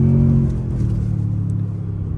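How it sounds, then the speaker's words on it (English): A 2023 Toyota Tundra TRD Pro with the i-Force Max engine growls loudly as it accelerates, a deep steady rumble heard close up with no talk. "I love how the engine growls when you step down on the pedal."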